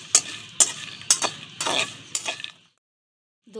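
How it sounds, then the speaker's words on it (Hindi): Almonds roast in desi ghee in a pan over a medium flame, with a series of sharp scraping stirs and a soft sizzle for about two and a half seconds before the pan falls quiet. "इसमें मैं बादाम जो है वो डाल दूँगी। तो बादाम को हम रोस्ट कर लेंगे।"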